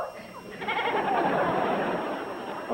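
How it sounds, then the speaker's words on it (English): A goat bleating in a wavering, drawn-out cry close by, sustained for a couple of seconds over faint room noise with no talking. "A goat?"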